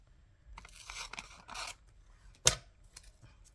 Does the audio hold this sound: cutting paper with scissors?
yes